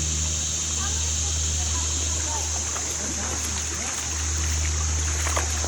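A creek flows steadily over rocks in a close, continuous wash, while Baxter, a chocolate lab, drinks from it at the edge; a person speaks quietly nearby.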